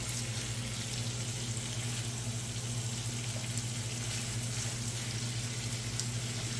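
Shrimp stir-frying in a pan for Thai drunken noodles, folded constantly, giving a loud, steady, unbroken sizzle with a low hum underneath and no talk.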